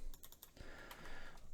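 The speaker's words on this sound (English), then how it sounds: "as I'm actually typing and working here" Quick, light keystrokes on a computer keyboard patter in a short, uneven burst, quiet and close with no voices.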